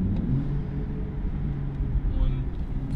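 BMW M2 F87 with a dual-clutch gearbox heard from inside under light throttle, a low, steady engine rumble that swells slightly toward the end, with someone speaking over it.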